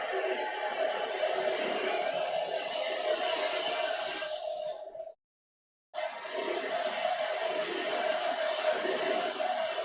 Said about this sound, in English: Beat LA, the chant from the crowd in San Francisco.